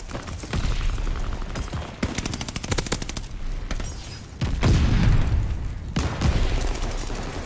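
In Call of Duty, gunfire rattles almost without pause: rapid automatic bursts, then a heavier booming stretch of shots, all loud and close and mostly without talking.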